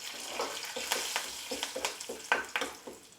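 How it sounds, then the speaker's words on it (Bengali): Curry leaves and Kashmiri chilli powder hit hot oil for a dal tadka, giving sharp crackling pops and sputters in irregular bursts over a soft sizzle, close and fairly loud with no talking. "কারি পাতাটা এখানে একটু সাবধানে ভাজতে হবে, কারণ তেল থেকে ছিটকানোর ভয় থাকে।"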